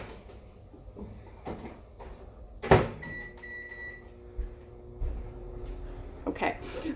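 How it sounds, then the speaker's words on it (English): A kitchen microwave oven being loaded and started: a sharp door thud, a short run of electronic keypad beeps, then a low steady hum with small clunks, all fairly close by. "And I'm gonna just pop in my microwave."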